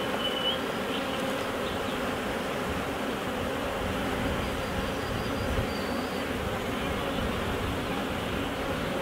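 Dense, steady buzzing of many bees swarming around a beehive during queen rearing with a Nicot system, holding an even, continuous drone without pause and with no voices.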